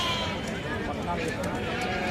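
Sheep bleat at a busy village livestock market selling sheep and goats, close and fairly clear over constant crowd chatter and people talking nearby.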